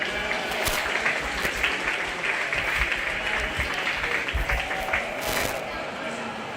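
Audience applause for sheep and lamb exhibitors at a county fair 4-H/FFA show, a steady wash of clapping lasting several seconds with voices mixed in underneath.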